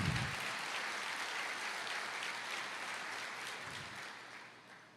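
Congregation applauding in church during a sermon, a steady, fairly distant wash of clapping that holds evenly for several seconds before gently fading.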